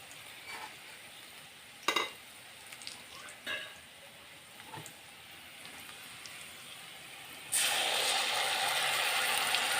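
Greens with onions, turmeric and salt frying in a pan, a steady crackling hiss broken by a few sharp scraping stirs, swelling to a loud, dense sizzle near the end.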